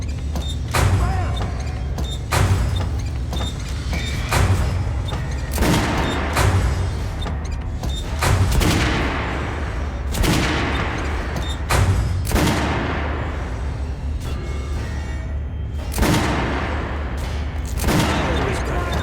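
Volleys of gunfire in the video game Metro Last Light, loud booming shots in irregular bursts with echoing tails across the whole stretch, with voices shouting at times.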